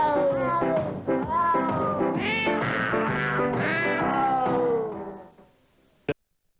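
Cats meowing in sequence to form a Christmas jingle, a continuous run of pitched, tuneful meows that fades out near the end, followed by a single sharp click.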